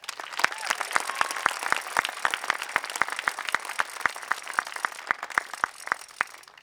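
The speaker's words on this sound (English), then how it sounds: "Please join me in applauding their success" An audience at a high school graduation ceremony applauds the graduating students with steady, brisk clapping that fills the space for several seconds, moderately loud, with faint crowd murmur underneath.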